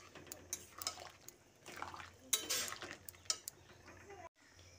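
A spoon scrapes and clinks against a metal pot while potato and pointed gourd simmer in a yogurt curry with added hot water, giving intermittent close stirring knocks over a faint bubbling liquid background.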